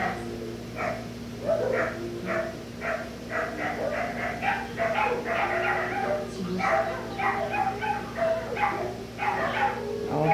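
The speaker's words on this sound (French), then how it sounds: "En plus, les chiens, ils hurlent." Dogs barking and howling outdoors: a long, fairly regular series of yips and barks at moderate distance, continuing throughout, with no voices.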